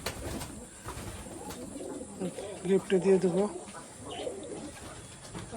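Fancy pigeons, including Sirazi and local birds, coo in a loft in a short run of low, rolling calls at mid-distance, with someone talking over them and faint background noise.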